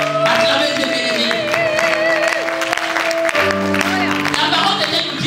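A church congregation applauds and cheers throughout, a steady crowd wash with clapping under a preacher's voice and sustained music.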